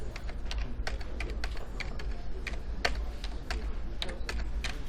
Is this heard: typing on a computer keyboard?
yes